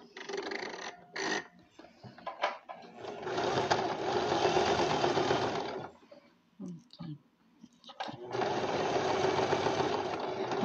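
A sewing machine runs a zigzag stitch along a fabric seam in steady, close bursts of rapid mechanical whirring, pausing briefly between runs with a few clicks.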